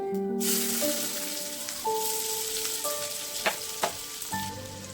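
Onion sizzles as it hits hot oil with cumin seeds in a pan, a steady crackling fry with a few sharp spatters, while faint sustained tones run underneath throughout.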